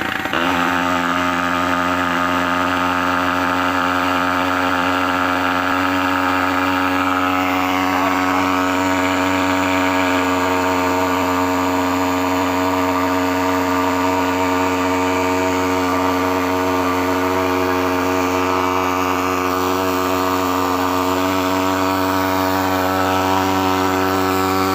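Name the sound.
engine being started and left running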